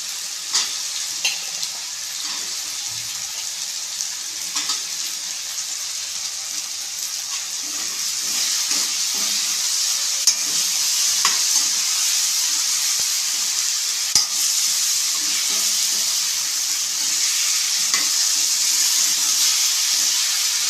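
Drumsticks and brinjal frying in a pan for a spicy tamarind curry, a loud, continuous hiss of sizzling oil with occasional stirring clinks, close and steady throughout.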